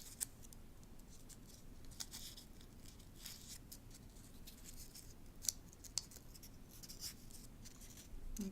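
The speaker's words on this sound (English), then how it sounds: "I'm using my scissors" Scissors cut paper for punched paper roses in soft, faint snips and rustles, close but quiet, spaced irregularly over a low background hush.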